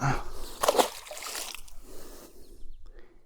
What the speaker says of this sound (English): Let's get him back in the water.